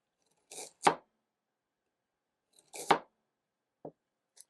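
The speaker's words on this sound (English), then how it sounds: "So let's try the boning knife first. So I'll do the carrot." A hand-forged boning knife chops through a carrot in two crisp, close double-tap cuts a couple of seconds apart, followed by a lighter tap, with silence between.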